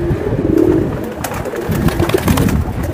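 Bindumoni pigeons coo close by in a low, throaty, rolling murmur, with repeated soft calls overlapping across the whole stretch and no speech over them.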